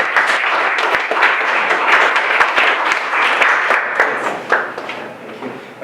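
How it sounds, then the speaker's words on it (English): A small tech meetup audience in San Francisco gives a loud, close round of clapping, with distinct individual claps audible within a steady burst that continues for several seconds. "so another round of applause"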